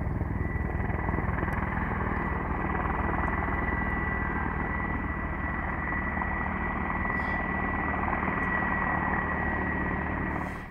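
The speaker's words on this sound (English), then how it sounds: "One after another, the helicopters and bombers climbed into the air for bombing" Military helicopters and bombers taking off one after another for bombing missions against ISWAP/Boko Haram, a loud continuous rotor and engine drone lasting throughout with no voices.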